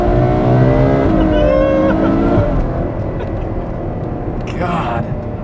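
Ferrari FF V12 accelerating hard from a standstill as heard from inside the cabin, a loud, rising engine note with stepping harmonics that climbs through the gears and holds steady, with some talk over it.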